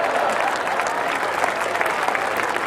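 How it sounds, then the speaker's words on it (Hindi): An audience claps through a continuous, dense round of applause at a Hindi comedy poetry show (hasya kavi sammelan), a steady crowd sound filling the hall with no one speaking over it. "आप जब समझ में आए ताली बजाओ,"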